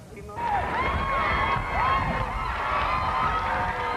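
A crowd cheers outdoors for a visiting royal couple at a regimental review in Kingston, Ontario, with steady mid-distance cheering, scattered shouts and children's voices, and some talk mixed in.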